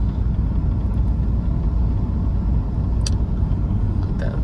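A Peugeot 207 with an automated manual transmission drives with a steady low engine rumble heard from inside the cabin, constant and fairly loud, with a couple of faint clicks.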